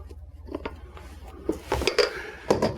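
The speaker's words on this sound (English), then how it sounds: "but you'll see I'm still using the whisk" Whisk folding egg whites into chocolate mousse in a bowl, soft irregular clinks and taps against the bowl with faint wet squishing, growing a little louder toward the end.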